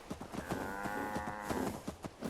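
Cattle mooing in the video game Fallout 4, a long sustained moo that fills nearly the whole stretch, with a steady clatter of game sounds underneath.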